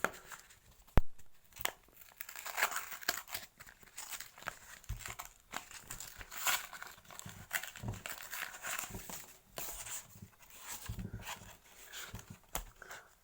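Homemade trading card booster packs being torn open at close range: a string of short ripping and crinkling bursts of paper and foil, irregular and fairly quiet, with no one talking.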